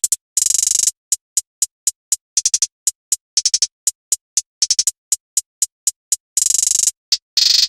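Pitched-down trap hi-hats programmed in FL Studio play alone: crisp, loud, evenly spaced ticks broken up by fast rolls and a few sustained buzzing bursts.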